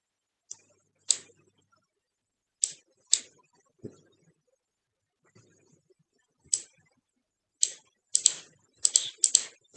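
A computer keyboard is tapped in sparse, isolated keystrokes while a command is typed, the clicks close and crisp with long silent gaps, then quickening into a short cluster of rapid presses near the end.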